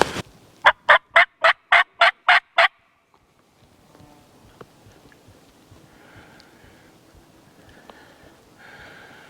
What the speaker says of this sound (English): I just had a bird gobble.